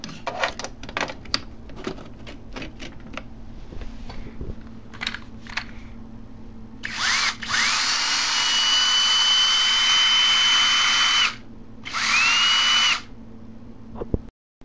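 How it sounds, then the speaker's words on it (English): Clicks and rustling give way to a cordless drill converted to run on automotive 12 volt power whirring steadily at high speed for several seconds, stopping, then running again in a shorter burst. "We'll try it out in the battery pack for now."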